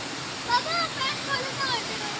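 A steady rush of water falling down a small waterfall fills the scene, with thin, high chirps scattered on top.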